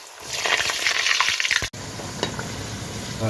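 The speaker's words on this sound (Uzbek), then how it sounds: "qizigan yog'imizga kartoshkalarimizni birin-ketin qovuramiz." Potatoes fry in hot oil, a loud, steady crackling sizzle with a brief clatter partway through, continuing alone without talk.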